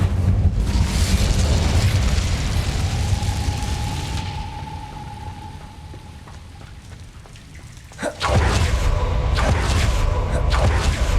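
Incendio fire spell in Hogwarts Legacy: a long crackling, hissing roar of flame that slowly fades, then a sudden loud burst of fire erupts and continues roaring steadily.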